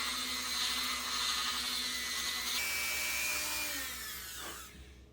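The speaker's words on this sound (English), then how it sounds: "you take your Dremel, and you go in there and you clean out that hole just a little bit" A Dremel rotary tool cleans out a hole in soft plastic with a loud, high-pitched whine that holds steady, shifts pitch partway through, then winds down near the end.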